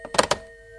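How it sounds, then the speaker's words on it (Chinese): A telephone receiver is hung up in an office. Two or three quick plastic clunks land within a fraction of a second, close and fairly loud, and are followed by a faint steady hum. "抱歉，我要挂电话了。"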